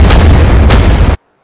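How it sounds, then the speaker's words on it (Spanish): Loud explosion in Fortnite, a heavy booming blast with a second burst partway through, then an abrupt cut to silence. "¿He sido yo o ha habido una explosión?"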